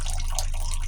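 A weak trickle of water runs from a tap at night, a thin, steady, close splashing with soft irregular droplet patter and no voices.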